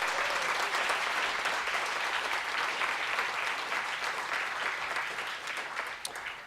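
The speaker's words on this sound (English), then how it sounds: "Can we give our donors a round of applause?" Steady, loud applause from diners at a scholarship dinner, thanking donors; a continuous wash of many hands clapping together that tapers slightly near the end.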